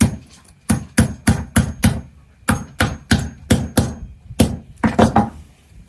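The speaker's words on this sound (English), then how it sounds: "So I've just been hitting it with a hammer." A hammer strikes a pipe into a plastic coupler for a low-tunnel greenhouse frame: around fifteen sharp, close knocks in quick irregular bursts with short pauses between them.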